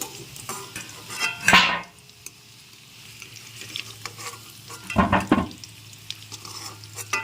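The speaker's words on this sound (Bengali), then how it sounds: "এখন আলুগুলো ভেজে নিয়েছি, এবার তুলে নিচ্ছি।" Fried potatoes lifted out of hot oil in a pan, a low sizzle underneath with two sharp bursts of clattering utensil scrapes, close and loud, no voices.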